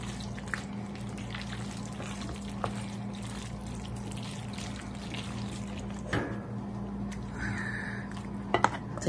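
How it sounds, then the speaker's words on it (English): Cheese sauce pours into macaroni while being stirred, a soft wet sloshing and scraping under a steady background hum, with a few faint clinks of a utensil against the pot. "So I'm just gonna pour it in the macaroni and just mix as you pour."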